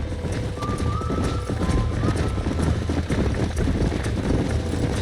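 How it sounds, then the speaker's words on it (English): Horses gallop in Red Dead Redemption, with a fast, steady clip-clop of hooves running close and loud throughout, alongside game sounds and a faint whinny. "There's the horses!"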